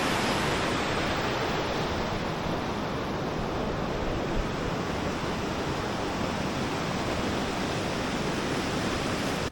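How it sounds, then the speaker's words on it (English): Water cascading down at Klondyke Mill, a steady, dense rush that fills the whole clip, loud and close with no break and no voices over it. "Cascades coming down there"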